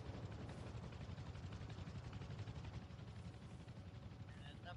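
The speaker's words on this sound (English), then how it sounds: "It's a helicopter." A helicopter in a video game roars as a steady, loud rotor drone with dense low thumping throughout, mixed with game noise.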